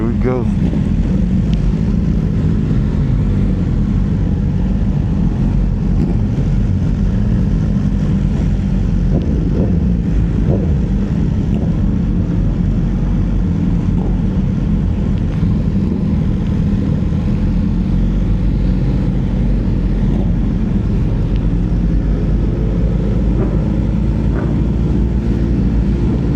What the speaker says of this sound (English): Bunch of super bikes, man.